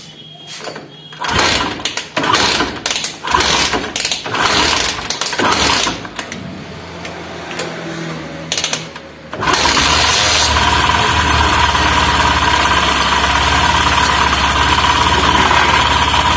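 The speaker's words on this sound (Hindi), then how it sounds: "चलिए आपको गाड़ी को स्टार्ट करके दिखाते हैं किस तरह से साउंड हो रहा है" A Honda Shine BS6 motorcycle with a timing chain fault starts after some handling noises. The engine then settles into a loud, steady idle with a mechanical rattle, close by.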